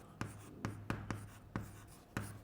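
A pen writing an answer by hand on paper, quiet close scratching in short repeated strokes, about six distinct strokes with soft tails, alone.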